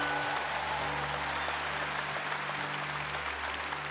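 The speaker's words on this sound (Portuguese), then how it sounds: "Aplauda essa certeza." A congregation applauds during a Catholic Mass, making a steady wash of fairly faint, distant clapping over a constant low hum from the room.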